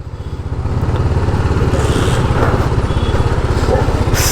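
TVS Apache motorcycle in urban mode rolling along in gear with the clutch fully released and no throttle, a steady low engine putter that firms up after a moment and continues unbroken.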